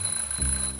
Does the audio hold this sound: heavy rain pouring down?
no